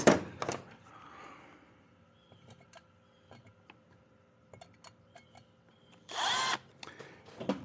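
Short bursts from an electric drill boring into an Efco 165 chainsaw crankcase, with scattered metallic ticks and taps between them and one loud sustained whir near the end, fairly close.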